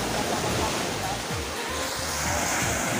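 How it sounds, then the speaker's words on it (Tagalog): Strong sea waves crash and surge in a constant loud wash of surf near a kayaking shore, with a voice faintly audible under the roar. "Lakas ng alon."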